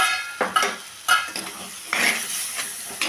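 Jackfruit seed biryani masala being stirred in a pot, with a few scraping, clinking strokes of a spoon against the metal and a soft sizzle between them, heard up close.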